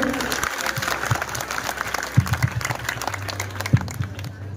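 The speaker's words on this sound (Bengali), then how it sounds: "তার জন্য একটা জোরে হাততালি হোক।" An audience at a school Teachers' Day drama performance claps loudly and continuously, with voices talking over the applause and a few sharper thumps toward the end.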